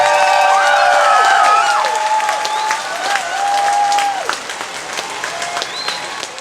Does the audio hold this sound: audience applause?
yes